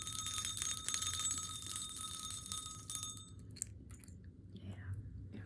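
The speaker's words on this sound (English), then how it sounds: "I'm gonna ring some bells." Small bells are rung rapidly, giving a bright, shimmering, high ring for about three seconds that then cuts off, leaving a faint low background.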